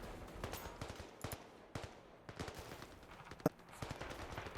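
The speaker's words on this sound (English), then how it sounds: "You might feel like a comic book character gunning through all those enemies with just your twin pistols" Vendetta twin pistols firing in Zero Caliber VR, fairly quiet and distant-sounding, with sharp individual shots spaced irregularly in quick pairs and runs, alone without talk.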